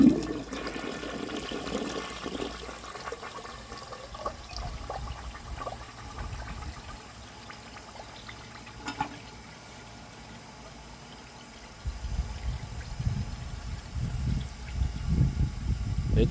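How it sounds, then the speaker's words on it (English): A 1951 Crane Neuday toilet flushes, a long rushing swirl of water that eases, then surges again with a louder refill gurgle near the end, heard up close with no talking. "So I'm just going to give it another flush right now."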